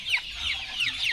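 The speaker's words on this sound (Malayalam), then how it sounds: "വലിയ കോഴികൾ നോക്കാം" Chickens cluck in short bright bursts, several birds calling close by in a loose, irregular rhythm with no talk over them.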